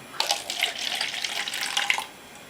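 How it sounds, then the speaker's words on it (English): Liquid pours from a can into a cup in a steady, splashing stream lasting about two seconds, close and fairly loud with no talking. "Go ahead and try to pour some of this out."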